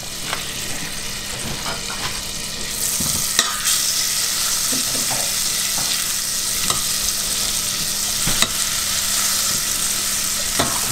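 About 50 grams of butter melting and sizzling in a pan for a béchamel sauce, a steady loud frying hiss with occasional clicks and utensil taps, close up and with no one talking.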